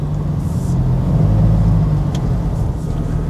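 Road traffic flows steadily past in Tagaytay in mid-morning, a loud, continuous rumble of car engines and tyres close by, with no talking.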